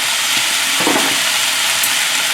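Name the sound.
vegetables added to a hot pan, stir-fry sizzling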